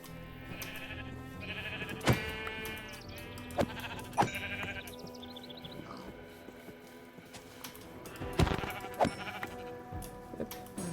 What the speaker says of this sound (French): On va tuer les moutons pour avoir un lit.